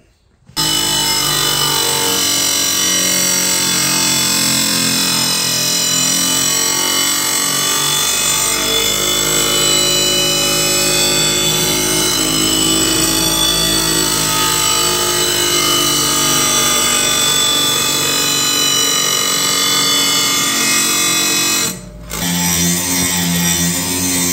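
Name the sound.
sharpening a steel kindling splitter blade with a power tool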